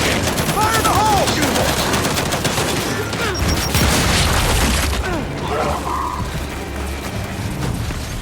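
Gears 5 combat with a grenade blast and sustained rapid gunfire, dense bursts and booms layered throughout, with shouted character voices and whistling ricochet-like tones over the din.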